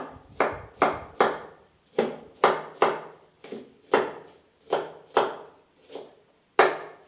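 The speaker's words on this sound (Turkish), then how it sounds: "E, biberi doğramasını da göstereyim." Kapya red peppers being cut into strips with a knife on a board, a steady series of about a dozen sharp, close chops with short pauses between strokes, no talking.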